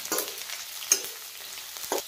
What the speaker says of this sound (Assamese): অলপ ভাজি ল'ম পিঁয়াজখিনি প্ৰথম